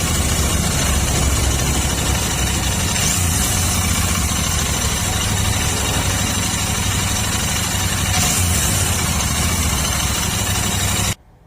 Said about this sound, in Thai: เครื่องยนต์สมบูรณ์สภาพพร้อมใช้งานนะครับ เครื่องดีสีเดิมนะครับ เสียงเครื่องแน่นๆเหมือนเช่นเคยนะครับ